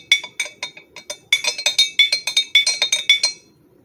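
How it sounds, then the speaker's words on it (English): Rapid, rhythmic clinking of a spoon stirring a spoonful of warm meat glaze (glace de viande) in a glass, bright taps sounding close and alone at a steady quickening pace before stopping. "About a half a teaspoon of this Glace de Viande, and stir it in here."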